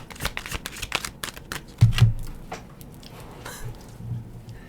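Tarot cards are shuffled in quick riffling snaps, followed by a soft thump as cards drop to the floor, close and fairly clear with no talking.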